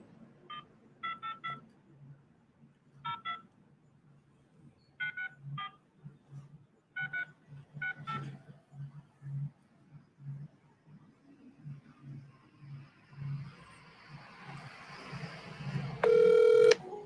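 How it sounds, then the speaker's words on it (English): A phone number is dialed on a telephone as a string of short keypad tones in irregular bursts over a low hum, followed by a rising hiss and the start of a ringing tone at the end. "I will call in now to that phone number so you guys can see that this works immediately."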